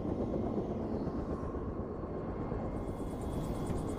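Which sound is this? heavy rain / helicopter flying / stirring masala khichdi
helicopter flying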